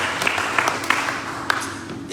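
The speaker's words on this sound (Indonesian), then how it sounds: "Kita beri tepuk tangan kemuliaan buat Tuhan." Congregation applause at a Sunday church worship service, a steady wash of clapping with a few sharper claps, filling the whole moment at moderate loudness.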